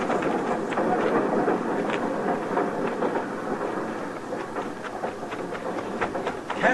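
A steady rumbling train roll with rattling, clacking bursts throughout, fairly loud and continuous, with no voices.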